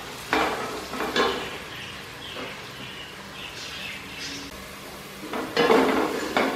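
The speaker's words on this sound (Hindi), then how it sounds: "प्याज को हमें ब्राउन कर लेना है" Onions fry in half a cup of oil in a pot, a soft steady sizzle with occasional spoon scrapes and stirring clatter rising at the start and end.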